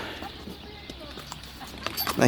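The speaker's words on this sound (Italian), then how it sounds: "È un maledetto sto cavallo, non c'è niente da fare." A horse in Cappadocia clops along with soft, uneven hoofbeats, mixed with outdoor background noise and people talking nearby.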